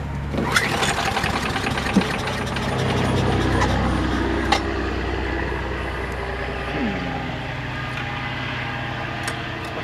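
Craftsman leaf vacuum chipper engine running at low throttle, a steady rough rumbling drone with faint knocking, fairly close, with a few clicks over it.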